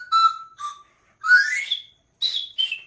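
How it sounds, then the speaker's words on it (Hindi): A toy whistle is blown at a night trade fair in a few short, shrill bursts with brief pauses between them, close to the listener and with no talk. "सीटी बजावत है"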